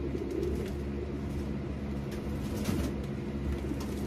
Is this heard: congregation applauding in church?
no